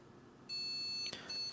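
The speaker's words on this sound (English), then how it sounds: "And here goes the beeps." A failed Gigabyte RTX 4080 graphics card refuses to POST, and the motherboard answers with a steady high electronic error beep that holds for about half a second, then breaks into a short second burst.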